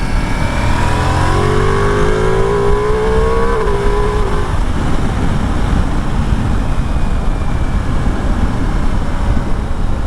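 A 2021 Ducati Multistrada V4 S motorcycle accelerates hard on the road, its engine note climbing in pitch for several seconds before giving way to a loud, steady rush of wind and engine noise, close and with no voices.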